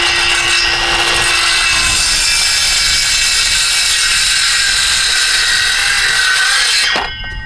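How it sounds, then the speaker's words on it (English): A Craftsman power saw cuts through wood in one long, loud, continuous pass with a high whine and gritty rasp, ending with the blade spinning down and a sharp knock near the end. "I bought this Craftsman saw"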